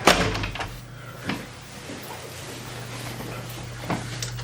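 Quiet room tone with a few distinct knocks and clunks spaced seconds apart, like a door being opened and shut, over a low steady hum.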